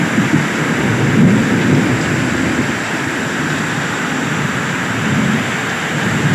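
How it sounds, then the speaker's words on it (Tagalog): Heavy rain falling, a loud, dense, continuous roar with deep low rumbling that fits thunder, steady throughout with no voices. "Oh, kay sarap ng ulan."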